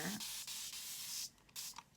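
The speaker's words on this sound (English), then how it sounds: "I'm going to take my spray bottle of water" Several quick bursts of a spray bottle misting water, short hissing puffs in an uneven rhythm, close by and fairly quiet.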